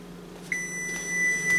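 A kitchen timer used while blanching beans in a pot sounds a single clear electronic beep that holds as a steady high tone, fairly quiet against a low background hum.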